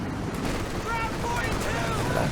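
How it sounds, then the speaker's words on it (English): Sustained LMG-42 machine gun fire from a World War II style video game, a dense continuous rattle of gunfire lasting a couple of seconds, with a commentator's voice faintly mixed in. "And LMG-42 fire could finish the job."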